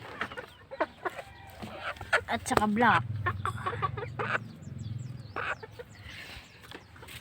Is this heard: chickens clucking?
yes